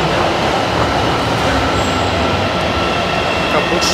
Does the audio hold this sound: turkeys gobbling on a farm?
no